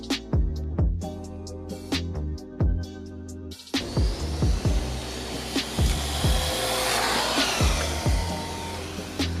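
An electric RC car's motor whines at speed in four-wheel drive. Repeated pitch sweeps rise and fall as the car passes back and forth, with close bursts and a broad hiss from the wheels.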